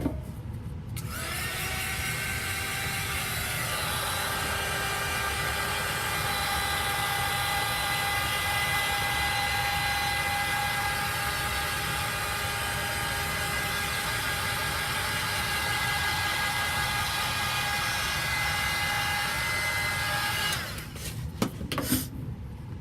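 A hair dryer runs loud and steady, drying chalk artwork, a constant blowing whine that holds for about twenty seconds before cutting off near the end.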